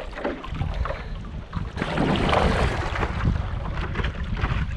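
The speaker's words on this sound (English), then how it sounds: "And the wind keeps pushing me as soon as I stop to take a look." Wind blowing across open Great Lakes water near Tobermory, Canada, while paddleboarding over a shipwreck, a steady broad rushing gust with waterborne texture that swells louder midway and holds, no talk.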